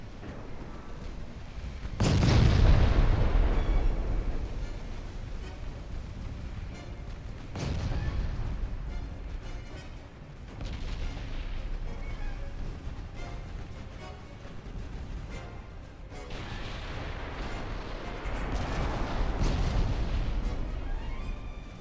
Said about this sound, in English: Wow, look at those 7-inch guns go.